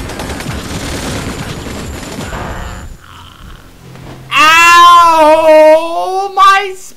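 A rocket explosion in the video game Breakdown, a loud burst of crackling, rattling blast noise followed by a pause, then someone shouts in alarm over it.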